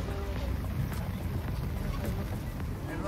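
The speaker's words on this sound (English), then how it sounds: "canal boat ride in the rain" Continuous dense rumble and wash of water and wind around a moving canal boat in the rain in Northern Europe, steady and enveloping, with a soft patter of rain.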